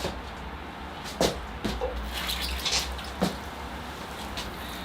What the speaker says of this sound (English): So I scraped them off, and then I sprayed the whole tree with soap and water. So now I'm going to rinse it down.